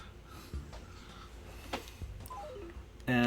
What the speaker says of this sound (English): My calculator on my phone.